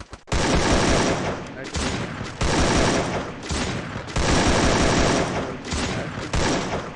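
Dense, loud automatic gunfire in a Free Fire battle royale grand final, with sustained bursts broken by brief gaps and a headshot among the shots, nearly continuous across the whole stretch, with a caster talking underneath.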